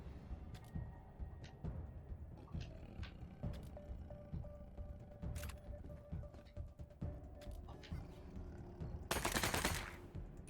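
Submachine gun fire in the video game Wasteland 3 crackles as a run of quick, sharp shots over a game backdrop, ending in a louder, denser burst near the end.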